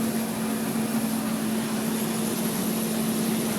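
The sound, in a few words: Hubler Dromader G-10 aircraft engine at ground idle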